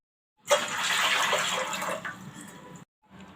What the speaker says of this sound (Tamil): ஃபர்ஸ்ட் பருப்பு ரசம் செய்யறதுக்கு 1 லிட்டர் தண்ணி ஆட் பண்ணிக்கலாம்.